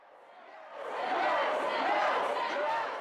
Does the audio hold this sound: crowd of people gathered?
yes